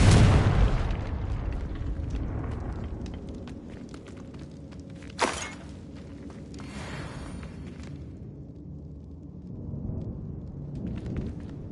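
The Confringo fire spell exploding in the Hogwarts Legacy video game: a deep rumble fades, then a single sharp blast, followed by a low ambient background and faint scattered steps, with no voices.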